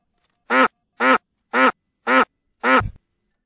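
Five short, evenly spaced duck quacks from a sound effect, loud and close and each one identical, the last trailing off into a brief low thud, with nothing else around them.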